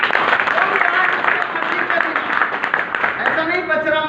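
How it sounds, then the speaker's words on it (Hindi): Loud, sustained audience applause at an indoor program held at Hotel Ashok in Bachhrawan, Raebareli, a dense continuous clatter of many hands lasting several seconds with crowd voices mixed in. "हम एक बार जोरदार तालियां बताएं"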